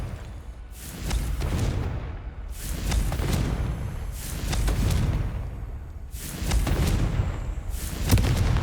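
Repeated booming blasts from the Confringo fire spell in Hogwarts Legacy, four or five heavy explosions in quick succession with rumbling low end and bright crackling bursts, loud and close, no talking.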